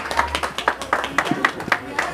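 Scattered hand clapping at a birthday party with a youth mariachi band, a few people clapping at an uneven pace under a steady background murmur.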